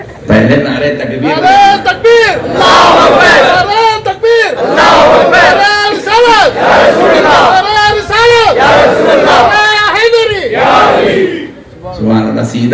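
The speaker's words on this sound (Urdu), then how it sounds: "پہلے نعرے تکبیر" At a Jashn-e-Milad-un-Nabi conference in Ambur, a large crowd loudly chants the takbir slogan in repeated roaring bursts about every two seconds, with voices rising together and falling back between calls.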